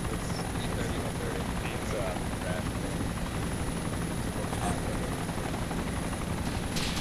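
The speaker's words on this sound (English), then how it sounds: "There's a big plane there." A large aircraft passes overhead in the survival game DayZ, a continuous heavy engine drone filling the background while people talk over it.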